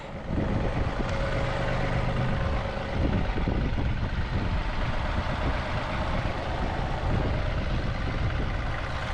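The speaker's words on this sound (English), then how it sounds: "I've got the tractor warmed up and fueled up" A warmed-up tractor engine idles steadily nearby, a continuous low mechanical rumble that holds at the same level throughout with no talking, ahead of snow plowing with a 72-inch plow.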